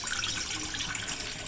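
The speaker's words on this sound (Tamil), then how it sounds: "ஒரு 2 கிளாஸ் தண்ணி ஆட் பண்ணிடுங்க." Water pours into a cooking pan at home, a steady bright splashing stream that runs continuously, close and fairly loud, with no voices.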